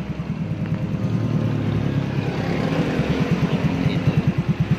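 Suzuki Address scooter fitted with a custom exhaust idles close by, giving a steady low burble that grows into a rhythmic pulsing toward the end.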